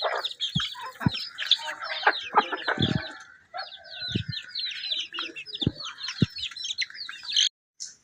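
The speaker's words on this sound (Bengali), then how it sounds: "ডিম পাড়া মুরগি তো তাই লেয়ারদের খাওয়াচ্ছি" Laying hens at feeding time, a busy chorus of close clucking and squawks with scattered pecking taps and bumps, continuing for most of the stretch before briefly cutting out.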